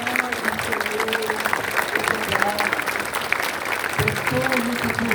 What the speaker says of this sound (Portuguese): Com uma salva de palmas, vamos agradecer a Jesus.